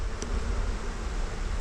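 Bee caught in a spider web, buzzing steadily at close range beneath a heavy outdoor rumble of wind or handling noise, with no talking.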